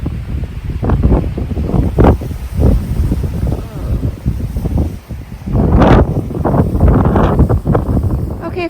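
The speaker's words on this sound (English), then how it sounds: "windy today." Strong gusts of wind buffet the microphone outdoors in a garden in fall, in uneven surges, rising and falling loudly with rustling in between.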